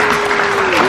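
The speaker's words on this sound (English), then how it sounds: "Give yourselves a round of applause." Group applause from participants at a Disney animation drawing class in Animal Kingdom, steady dense clapping throughout, close and loud with no speech.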